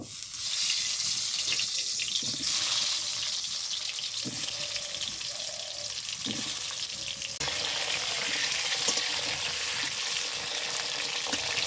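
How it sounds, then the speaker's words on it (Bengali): Pointed gourd pieces fry in hot mustard oil with a steady, dense close-up sizzle, occasional low clunks of stirring breaking through the continuous hiss. "আমি সরিষার তেলে করছি পটলগুলো সুন্দর করে ভেজে নেব"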